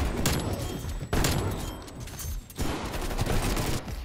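Shotgun gunfire in a video game lands as several heavy, close blasts separated by short gaps amid a continuous layer of rattling combat noise.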